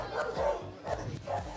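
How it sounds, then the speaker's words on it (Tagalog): Several big dogs bark in repeated bursts close by, loud and overlapping, with a low rumble between barks and no talking. "Dami aso, ang laki."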